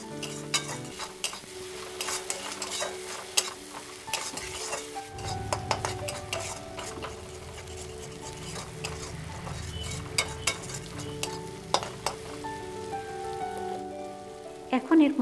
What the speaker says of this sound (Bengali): এবার এগুলো ওই বাটা মশলার সঙ্গে খুব ভালোভাবে কষিয়ে নেব